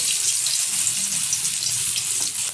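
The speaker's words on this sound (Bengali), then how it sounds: "তেলটা গরম হয়ে গেছে, আস্তে আস্তে করে বড়াগুলো ছেড়ে ভেজে নেব।" Bora fritters fry in hot mustard oil with a steady, bright bubbling sizzle that stays even and close the whole time.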